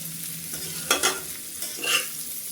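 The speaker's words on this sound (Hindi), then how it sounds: "अब इनको अच्छे से हम चला लेंगे।" A spiced potato mixture for aloo gutkha is stirred and roasted in a pan, with two short bursts of spatula scraping over a low, steady sizzle and no voices.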